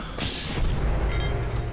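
A Knallbeere (bang berry) bursts in Fallout 76, giving a single muffled boom with a short crash that fades into a steady rumble of game ambience.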